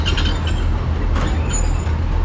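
Neral–Matheran hill railway train carriages rolling along the track, heard as a loud, close, continuous low rumble and rattle with no voices.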